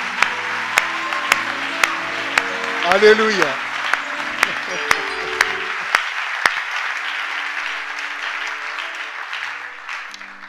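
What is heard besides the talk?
congregation applauding in church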